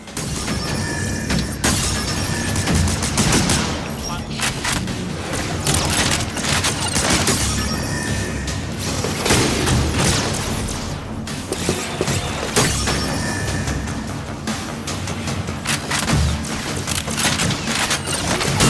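Weapon systems firing nonstop in the VR game Damaged Core, a dense barrage of loud bursts, shattering impacts and mechanical clatter with no letup.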